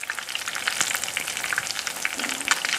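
A fish fillet frying in hot oil, a steady crackling sizzle with scattered pops that runs throughout, moderately loud and with no voices over it.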